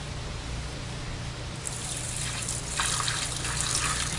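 Water trickles and drains steadily while aquarium sand is rinsed. The flow grows louder and splashier partway through.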